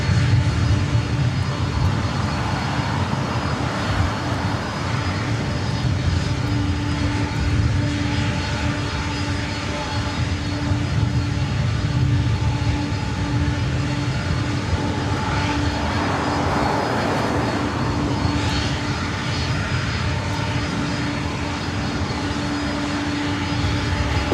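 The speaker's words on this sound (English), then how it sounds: "Just take off 24 right on that, Delta 91 Heavy." A Delta Boeing 767-300ER heavy taking off from runway 24 Right at LAX, bound for JFK, makes a sustained, loud jet engine roar that swells and rumbles steadily with no talk over it.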